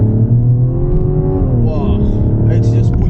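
Mazda CX-90 inline-six in sport mode at full throttle, a loud steady engine drone climbing in pitch as the car pulls hard, with a brief gear-change dip midway.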